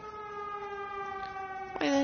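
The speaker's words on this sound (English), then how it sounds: "Why the heck is there an air raid siren?" An air raid siren wails in the video game Everybody's Gone to the Rapture, a steady, faint tone drifting slightly downward, with a short voice near the end.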